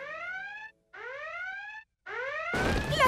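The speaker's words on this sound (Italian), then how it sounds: "La sirena di allarme!" An animated-cartoon alarm siren blares in three rising, whooping wails separated by short gaps, each loud and bright, followed by a sudden burst of broadband noise at the end.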